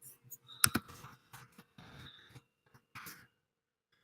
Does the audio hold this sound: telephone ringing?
no